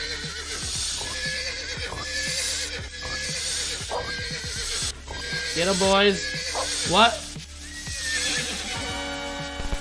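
In an animal fight video game, horses whinny in several loud, rising calls over a busy run of clip-clopping hooves, while people talk excitedly throughout.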